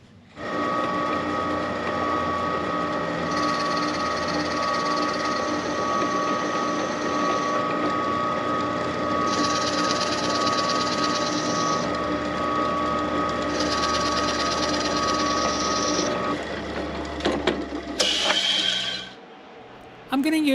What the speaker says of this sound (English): that's where I need to drill the hole.